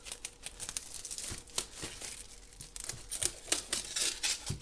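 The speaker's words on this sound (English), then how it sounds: "I'm going to do that with scissors." Scissors snip repeatedly through paper or plastic, giving quick crisp cuts mixed with crinkling, close and fairly quiet, with no talking.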